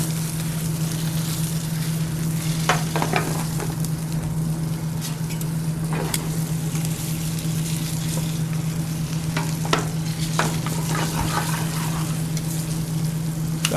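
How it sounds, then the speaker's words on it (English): Pork chops sear in extra virgin olive oil in a preheated pan, giving a loud, continuous close sizzle with occasional crackles and spatters and a faint steady hum beneath. "Got a nice sear on that first side already."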